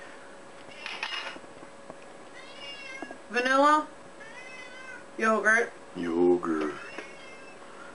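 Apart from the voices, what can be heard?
cat meowing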